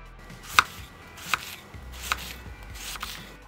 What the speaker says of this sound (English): Now that we've got our cabbage all chopped up